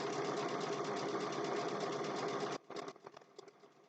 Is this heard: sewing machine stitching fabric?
yes